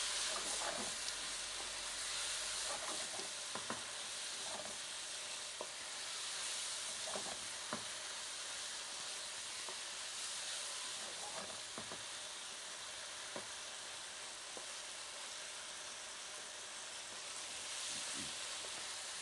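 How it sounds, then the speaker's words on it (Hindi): Lamb liver fries with dried fenugreek in a pan, making a continuous even sizzle and hiss, with occasional soft stirring clinks breaking through the steady frying. "अब आप इसको अच्छी तरह से भूनें।"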